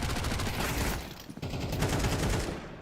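Pistol gunfire on the Dust 2 map in a Counter-Strike match at a PGL Bucharest tournament: a dense, loud barrage of overlapping shots that is nearly continuous, with only a brief lull midway.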